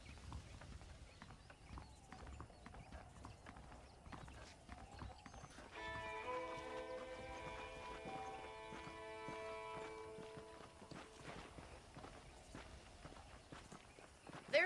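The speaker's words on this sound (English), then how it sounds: "The horses are saddled up over here." Horse hooves clip-clopping in the Red Dead Redemption western video game, a steady walking rhythm of soft, close hoof falls on dirt that carries on throughout, with a tonal musical sting partway through and no talking.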